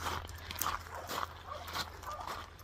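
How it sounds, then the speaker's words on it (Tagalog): A dog fighting outdoors beside a creek, heard as several short, fairly distant yips and whimpers spread across a few seconds. "Away pa rin yung aso nila doon."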